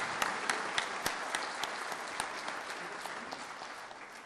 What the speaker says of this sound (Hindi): आइए तालियों की गूंज से महामहिम राष्ट्रपति महोदया का स्वागत अभिनंदन करें